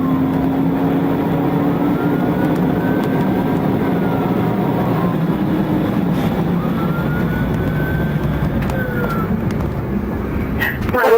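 Aircraft droning overhead during a police pursuit along a highway, a loud, continuous engine rumble that holds steady throughout, with faint voices underneath.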